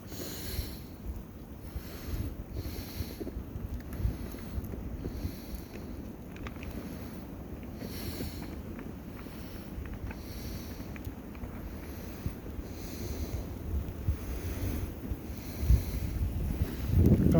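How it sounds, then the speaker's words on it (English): Strong blizzard wind roars across a snowy homestead, rumbling and buffeting the microphone in uneven gusts that swell louder toward the end. "Comes some wind."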